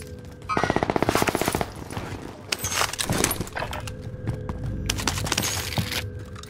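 A rapid burst of video game machine gun fire rattles out, followed by scattered heavier shots and clattering impacts over a constant background din.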